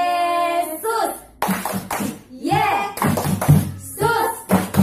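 Sunday school children clap along to a rhythmic 'tepuk Yesus' chant, bursts of close, sharp hand claps mixed with sung and spoken voices, following a sustained opening tone.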